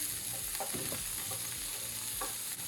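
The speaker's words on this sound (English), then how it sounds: "I'm gonna let that fry a bit" Sweet peppers fry in a pan with a steady, close sizzling hiss, broken by a few soft scrapes and knocks as they are stirred.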